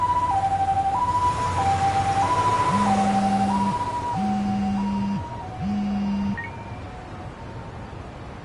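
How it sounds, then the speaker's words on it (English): An ambulance siren in the video game Lost Judgment sounds a loud two-tone wail that alternates steadily, joined midway by a lower repeating tone, over a dense background of game noise. "Can you get an ambulance over to your bar right away?"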